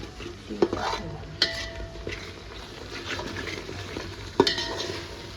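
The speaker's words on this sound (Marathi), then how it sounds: "याला आपण हलवून घेणार आहे चांगलं, जेणेकरून त्याला कलर छान येईल." A spoon stirs chickpea masala as it fries in a pan, giving steady scraping and shuffling with a few sharp metallic clinks against the pan over a low sizzle, close and with no talking.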